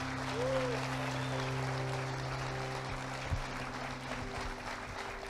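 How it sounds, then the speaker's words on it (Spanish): A church congregation at a Sunday service claps together in a steady, even wash of applause that sounds somewhat distant, with a low hum underneath throughout. "¿Quiere aplaudirle al Señor? Y apláudele."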